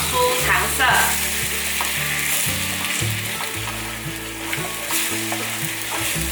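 Brown sugar being stir-fried in a pan until it caramelizes, a steady close sizzle broken by repeated scraping strokes of the spatula, with no voices.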